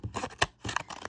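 Scissors snipping through thin cereal-box cardboard, several quick close cuts in a row with crisp crunching blade sounds, no talking.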